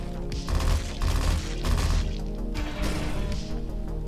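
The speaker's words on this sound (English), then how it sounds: "I cleaned up the Gatling gun sound and the rocket going sound. I also added these bullet impact sounds." Rapid Gatling gun fire mixed with bullet impact hits in a sci-fi mech top-down shooter game, a dense continuous rattle with repeated crunching bursts throughout.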